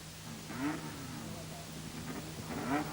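A 1970s racing car engine revs at a motor race meeting, rising in two faint, distant sweeps over a low background hum.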